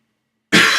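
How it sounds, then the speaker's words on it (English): A single loud, close cough bursts in after a stretch of silence, harsh and broadband, lasting through the end. "I'm coughing my intestines out."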